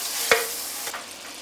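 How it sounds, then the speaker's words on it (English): A brief clink of a utensil followed by soft, close sizzling and hissing as about 30 grams of butter melts in a frying pan on medium heat, fading slightly toward the end. "heat our pan on a medium heat. Stick in about 30 gram stick of butter."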